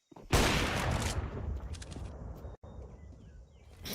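A single loud AWP sniper rifle shot in CS:GO during a pro match, a sharp crack followed by a long noisy tail of game ambience and distant effects.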